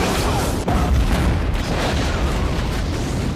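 A loud, sustained explosion from the shark film Deep Blue Sea, a dense rumbling roar with a sharp burst near the start that fills the whole stretch without letting up.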